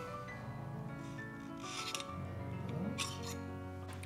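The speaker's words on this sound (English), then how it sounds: "Now we remove the iris ring." An iris ring is worked off an Angénieux Type EZ cine lens by hand, giving soft rubbing and rasping metal-on-metal scrapes with a light clink near the end, close and fairly quiet over a steady background hum.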